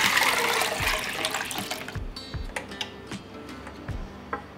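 Two litres of water poured over sugar into a pot rush loudly at first, then taper off within about two seconds, followed by scattered light knocks and clicks.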